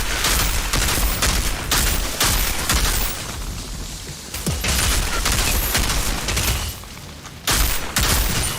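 Heavy gunfire from the Outriders video game with a Technomancer build, dense loud bursts of shots and booms with brief lulls between volleys.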